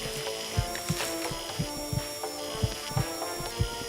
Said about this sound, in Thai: เจาะกระดูก